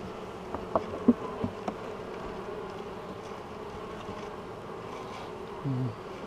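Honey bees buzz in a steady, continuous drone around an open hive during a colony check on a small colony, with a few louder passes of individual bees near the microphone.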